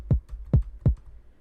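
Three deep, punchy kick drum hits with a booming low end, evenly spaced and played alone with no other sounds.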